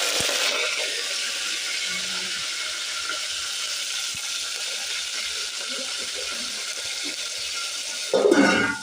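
Fresh-washed coriander and curry leaves go into hot oil for a tempering, setting off a loud, steady hiss and crackle that holds for several seconds, ending in a brief louder sputter.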